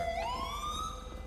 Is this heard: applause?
no